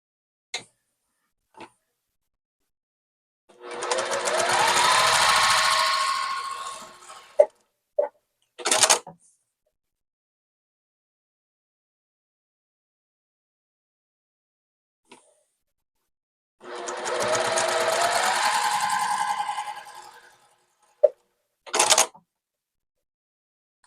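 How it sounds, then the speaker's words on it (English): A sewing machine stitching the bottom corners of a quilt block, two separate runs of a few seconds each with quiet gaps between, plus scattered clicks and handling noises, close and clear. "I'm going to stitch the bottom corners."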